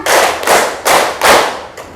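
Four loud, sharp claps from a group clapping together during a counting exercise, evenly spaced, followed by a fainter fifth clap trailing off at the end, with no talking.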